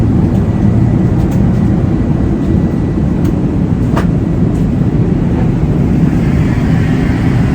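Airbus A380 cabin in flight, a loud constant low-frequency roar filling the space with faint clicks and rustles of someone walking around.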